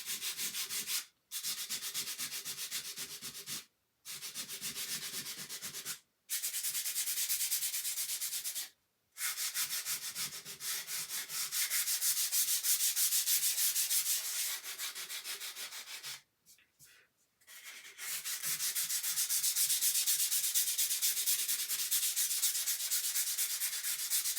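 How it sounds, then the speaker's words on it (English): Hand sanding along the edge of a painted wooden holiday decoration with a Santa print, a steady close scratchy rubbing in long strokes broken by a few short pauses. "sand a little bit of the edge where the red may have gone onto, and it also smooths out my surface at the same time"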